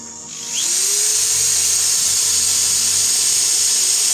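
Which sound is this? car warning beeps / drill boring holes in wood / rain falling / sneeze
drill boring holes in wood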